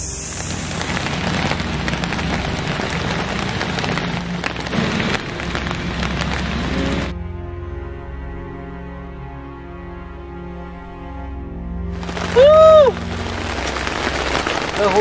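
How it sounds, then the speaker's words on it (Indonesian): Steady rain pours down around a shelter on a hilltop, a dense broad hiss for the first half before quieter tonal sounds take over. "kehujanan. Untung ada saung di atas bukit, jadi kita bisa berteduh dulu."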